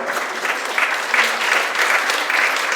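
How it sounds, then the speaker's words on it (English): A live audience at a podcast recording in a hall claps in a steady burst of applause, dense and even from start to finish with no voices heard over it. "We don't have time for applause."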